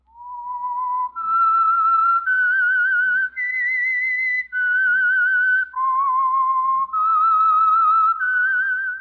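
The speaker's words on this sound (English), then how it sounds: "That whistle is your signal for the Signal Oil Program, The Whistler." A clear human whistle carries a slow, stepped melody of long sustained notes that rise and fall, loud and alone, as the signal tune for the Signal Oil Program radio show The Whistler.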